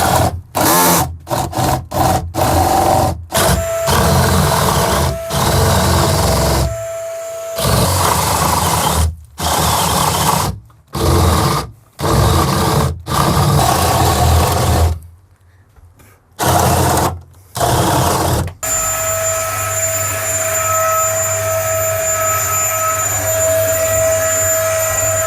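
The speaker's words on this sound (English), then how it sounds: "So I've got a 32mm spadey bit, and I'm just going to plough some out." A 32mm spade bit driven by a power drill bores holes on a van roof, in repeated loud, close bursts of whirring with brief pauses between them.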